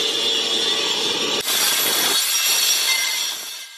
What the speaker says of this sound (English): he is going to saw this little half moon out, it's going to be super loud